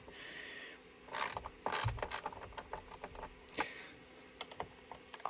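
Torx T20 screws are backed out of the paddle shifter assembly on a Mercedes-AMG GT S with a ratcheting driver, giving quick clicking ratchet bursts and small metallic taps, close and quiet.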